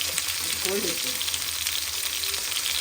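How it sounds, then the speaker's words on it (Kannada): Frozen chicken breast pieces fry in hot oil with a loud, continuous crackling sizzle throughout. A faint voice is briefly heard underneath. "ಕಟ್ ಮಾಡಿದ್ರೆ ಫುಲ್ ಚಟಪಟ ಅಂತ ಇದೆ, ಬಿಕಾಸ್ ಫ್ರೋಝನ್ ಅಲ್ವಾ, ಅದಕ್ಕೆ."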